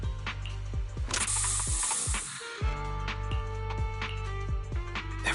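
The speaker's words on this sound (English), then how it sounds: "Have a taste of the special bamboo spray!" A special bamboo spray hisses in the Zenless Zone Zero video game, a bright spray burst over ratcheting mechanical clicks and game effects, followed by a low tonal sweep and repeated clicking.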